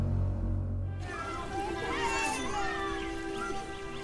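A domestic cat, mother of six kittens, meows in a wealthy Egyptian villa, a faint soft call under a continuous background hum and a little voice activity.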